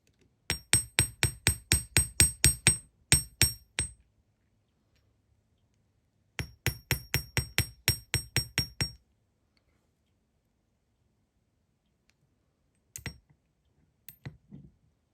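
A small hammer strikes jewelry wire or beads in quick, even runs of metallic taps, about a dozen and then eight, followed by a few scattered taps, close and clear with no talk.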